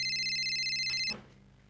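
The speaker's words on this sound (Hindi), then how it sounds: "पम्मी बहन जी का फोन है।" A phone ringtone plays a steady, bright electronic tone for about a second, then cuts off abruptly, leaving a faint muffled rustle.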